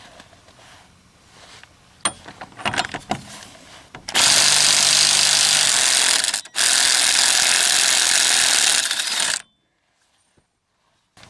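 A hand ratchet clicks a few times on a 30mm socket fitted to the front wheel hub nut of a 2006 Chevy HHR, which is torqued to 155 foot-pounds. Two loud, sustained bursts from a power tool follow, then silence.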